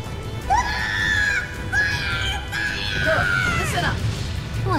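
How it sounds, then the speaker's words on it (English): Soldiers in a battle from the game Drakengard 3 shrieking and screaming in several drawn-out, wavering cries that rise and fall over a clatter of combat, loud and close. "Don't you hear all that screaming?"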